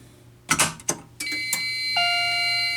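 A Fire-Lite alarm panel with an ANN-80 annunciator goes into alarm after a pull station is pulled: a few sharp clunks and clicks, then a steady high electronic beeping tone that holds on.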